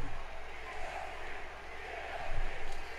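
A wrestling arena crowd in the WWE 2K22 video game roars and chants as a dense, continuous wash of voices that swells slightly near the end.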